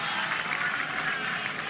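A golf crowd at the Ryder Cup applauds in a dense, steady wash of distant clapping and cheering throughout the brief moment.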